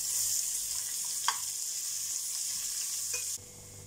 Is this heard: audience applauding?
no